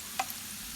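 French fries frying in hot oil give a steady, soft sizzling hiss, with one brief clink or pop near the start.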